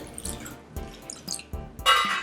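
Water poured from a container into a cooking pot of seasoned coconut rice ingredients, a splashing, gurgling pour with a few bursts and a louder, fuller rush near the end, close and alone.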